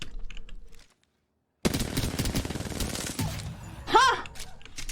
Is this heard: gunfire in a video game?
yes